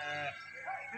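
Sheep bleat within a moving flock, with overlapping wavering calls filling the short moment at moderate distance.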